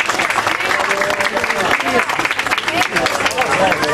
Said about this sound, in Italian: Un applauso a Stefano, rappresentante del K2 Club di Reggio Calabria, grazie!